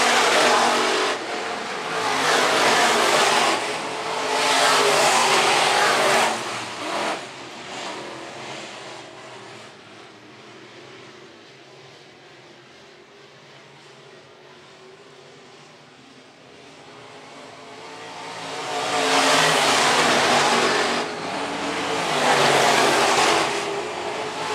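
Modified race cars roar past at Phillips County Raceway, two loud surges of engine noise sweeping by with a quieter stretch of distant rumbling between them as the pack circles the dirt oval.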